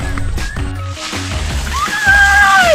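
Ice-cold well water sloshing and splashing close by, a few wet swishes and pours over a low background, with a whistling tone rising near the end.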